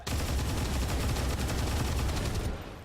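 A gunner in XCOM 2 fires at a chrysalid with a rapid burst of automatic gunfire, loud and sustained for over two seconds before cutting off abruptly.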